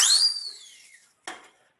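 Small microphone-shaped toy whistle blown twice: a long, bright descending whistle tone fading out, then after a pause a short, sharp second blast, close and alone.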